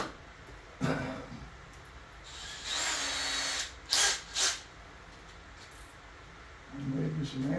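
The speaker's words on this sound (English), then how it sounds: "I'll put the other drill in it." A power drill bores a hole in a workshop building a plasma table, running in several short whirring bursts of a second or two separated by pauses, with someone speaking faintly between them.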